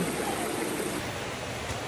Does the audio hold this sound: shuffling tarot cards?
no